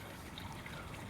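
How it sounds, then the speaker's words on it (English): Water trickles steadily down a small model waterfall and stream built into an RC crawler course, a soft continuous close-up babble with no voices. "I just knew I wanted a stream and I had to have a waterfall."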